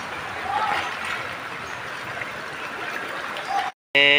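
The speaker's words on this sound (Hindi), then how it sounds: "देखो देखो पानी देखो।" Flood water rushes through a street in Agartala, Tripura, during heavy rain in 2023, a continuous broad roar of flowing water with excited voices speaking over it and a brief cut near the end.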